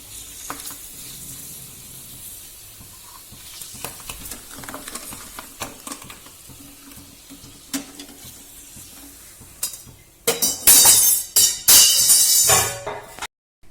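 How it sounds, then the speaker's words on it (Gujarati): Bhungla snack pipes deep-fry in hot oil with a continuous crackling sizzle and scattered utensil clicks, then loud bursts of spattering and clatter near the end before it cuts to quiet. "ભૂંગળા તળાઈ ગયા છે આપણા।"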